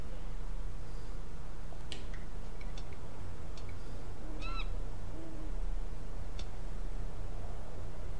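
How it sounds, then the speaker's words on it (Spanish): A seagull in the video game Broken Sword 5 gives a few short wavering squawks over a steady low ambient drone, with scattered faint clicks around them. "La gaviota me miraba desafiante."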